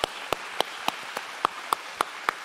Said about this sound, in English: Can we give Nikita a big hand clap?